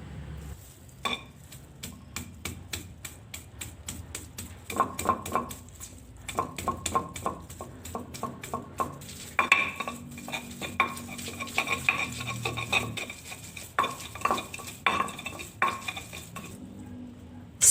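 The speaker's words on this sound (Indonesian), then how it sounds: "Pertama-tama saya giling dulu ebi dan juga bawang putihnya. Saya giling sampai halus." Dried shrimp and garlic are ground for Padang-style green chili sambal, giving a rapid series of close, sharp knocks and scrapes that repeat steadily throughout. No one speaks.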